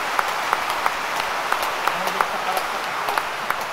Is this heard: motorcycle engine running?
no